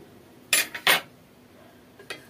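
A spoon's edges pressing food into a container: two sharp clinks and scrapes close together, then a faint tap a moment later, with a quiet room behind.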